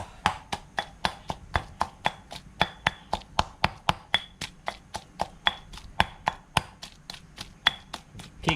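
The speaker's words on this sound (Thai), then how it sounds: "อ่าโอเคนี่เสร็จแล้วก็มาตำน้ำพริกต่อ" A pestle pounds chili paste with shallots and garlic in a mortar, about thirty sharp, steady thuds at a brisk, even rhythm, close and clear with no talking.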